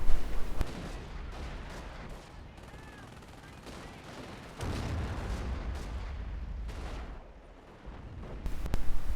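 Gunfire and artillery from a WWII strategy video game, with rolling blasts and sharp shots over a dense, continuous battle din; the bursts swell louder in the middle and toward the end.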